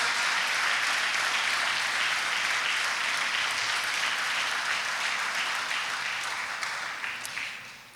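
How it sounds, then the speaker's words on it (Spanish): A church congregation claps together in sustained, dense applause during a Spanish-language worship service, steady and loud throughout before tapering off slightly at the end. "¿Podemos aplaudir a ese Rey en esta mañana?"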